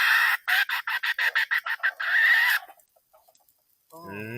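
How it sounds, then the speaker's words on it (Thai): A rooster on a farm clucks in a quick run of about a dozen loud, close, rhythmic calls ending in a drawn-out squawk, followed by quiet and then a brief burst of more clucking. "ไก่นี่ไก่ผู"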